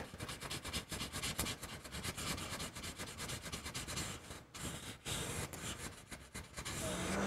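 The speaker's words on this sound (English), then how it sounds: "patience is the key to hand sanding" Sandpaper is worked by hand over the ricasso of a knife blade in quick, close rasping strokes, a continuous scratchy rubbing with brief pauses, quiet but steady.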